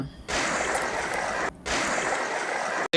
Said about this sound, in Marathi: नदीत उतरलेलो आहे आणि असं मोठा प्रवाह